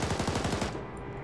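Rapid bursts of automatic weapon fire from a gun in Arma 3, close and loud, with a quick rhythmic rattle that cuts off after under a second.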